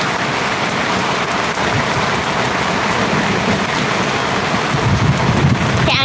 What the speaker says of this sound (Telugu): కానీ వర్షం అయితే ఏం తగ్గలేదు అసలు.